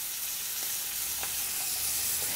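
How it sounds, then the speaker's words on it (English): Steady, hissing sizzle of salmon frying in a pan, with occasional faint pops and crackles, close and continuous with no talking. "you can hear that nice sizzle"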